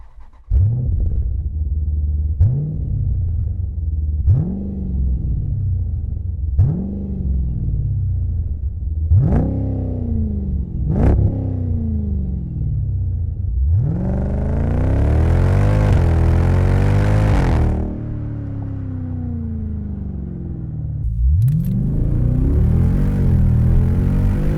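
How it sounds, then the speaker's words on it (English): A 2012-or-later Jeep Grand Cherokee SRT with a Pypes X-pipe exhaust revving hard again and again, each blip rising and falling, then a longer sustained rev and another burst. The exhaust is loud and close, with no voices. "Adding a Pypes exhaust system to your 2012 and up SRT Jeep Grand Cherokee is a great way to add sound and performance."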